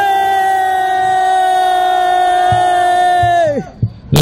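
A protest crowd of housing union members at a rally in Hwaseong roars one sustained, loud collective shout for several seconds, then cuts off abruptly, leaving a few scattered voices.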